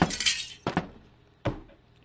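A glass window shattering in the game Hello Neighbor: an initial bright crash of breaking glass, then two shorter tinkling impacts a moment apart, close and fairly loud with no talking.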